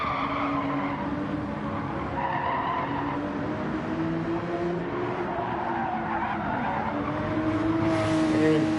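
GT race cars at Spa squeal their tyres in long, wavering wails over steady engine roar as they are pushed hard through corners. The noise holds at an even level, with a commentator faintly audible beneath it.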